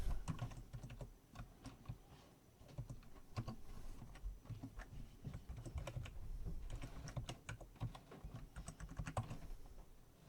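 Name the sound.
typing a password on a computer keyboard to sign in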